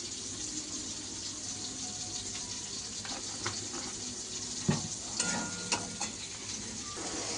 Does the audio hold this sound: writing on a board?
no